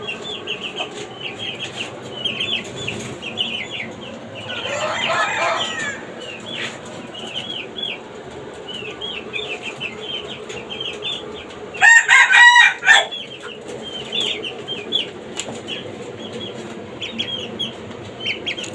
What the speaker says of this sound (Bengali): আধুনিক পদ্ধতিতে খাঁচায় দেশি ও টাইগার মুরগের খামার